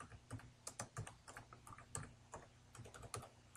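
Keys on a computer keyboard clack in quick, irregular bursts of taps as words are typed into a search box, close and fairly quiet, with no talking.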